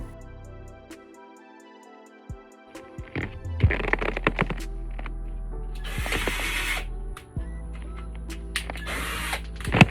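A long, thick drill bit boring holes up through a roof during a FANClip installation, heard as several bursts of loud whirring with a steady motor drone between gritty cutting noise, and quieter clicks and handling sounds before it.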